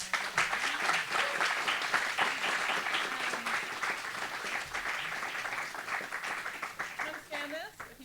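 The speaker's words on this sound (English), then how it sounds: "Can I get a round of applause?" An audience applauds at the end of a talk on climate and capitalism, a sustained, even wash of many hands clapping for several seconds, fading slightly near the end, with a voice speaking faintly underneath.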